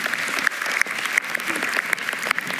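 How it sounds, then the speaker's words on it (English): Applause from an audience at a talk at Brainwash Festival 2025 as a speaker takes the floor: steady, dense clapping with sharp individual claps standing out, no voices over it. "Give her applause."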